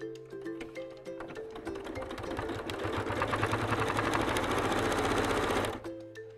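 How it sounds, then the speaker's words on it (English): A sewing machine stitches through thick layers of fabric for a triangular pouch, starting with slow hesitant bursts and then running in a fast, steady mechanical chatter before stopping abruptly, with no talking. "allow your sewing machine to feed the fabric through nice and evenly"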